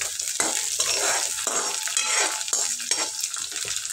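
Onions frying in a pan over a low gas flame while being stirred: a soft continuous sizzle broken by repeated scraping strokes of a spoon against the pan, close and fairly quiet.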